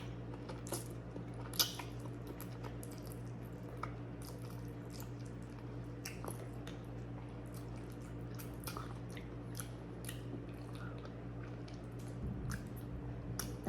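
Close, wet squishing and soft clicking bites come from someone slowly chewing adobo chicken feet with bones, scattered small crunches and mouth sounds over a low steady background hum, with no talking.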